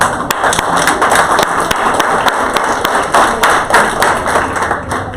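A single person claps by hand in a loud, steady rhythm, about three claps per second for several seconds, close and clear with little else around.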